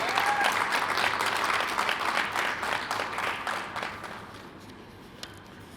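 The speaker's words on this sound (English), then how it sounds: "Please give her a round of applause." A crowd applauding at a university address, dense clapping that holds steady and then gradually fades out toward the end.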